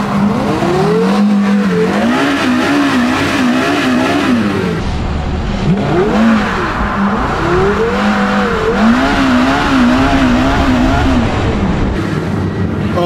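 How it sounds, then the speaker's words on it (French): A Porsche Carrera GT's engine revs up and down repeatedly, loud and close, with rising and falling pitch sweeps as the car accelerates and shifts. "C'est sympa, hein, la Carrera GT."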